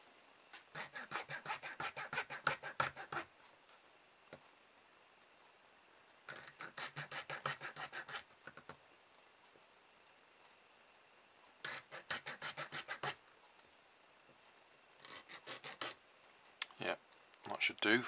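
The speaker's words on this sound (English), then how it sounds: "So I'll cut that into four pieces, and that'll do for our axle tubes." A cardboard pencil tube is sawn into short pieces for axle tubes. It gives four separate bursts of rapid scratchy rasping strokes, close and fairly loud, with quiet pauses between them.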